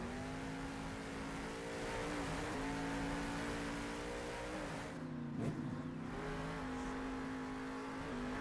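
Engine of a monster truck in Monster Jam Steel Titans 2 roaring steadily as it boosts, a continuous loud drone with pitch shifts and a brief bump midway.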